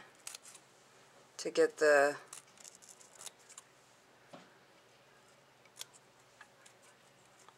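Scissors snip a V shape into craft material, giving a brief cluster of crisp cutting clicks near the middle of the clip, with a voice talking quietly around them.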